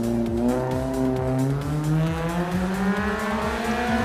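A race car climbs the course at the Eliakanda SLT Mobitel Southern Hill Climb 2021, a motorsport event run by the Southern Motorsports Club. The engine roars loud and steady, its pitch climbing through the gears with no voices.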